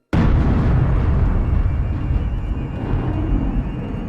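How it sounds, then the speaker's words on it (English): A massive sugar dust explosion sound effect: a sudden loud blast onset that rolls into a sustained, deep rumbling roar with no talk, slowly easing over several seconds. "The result is a massive explosion."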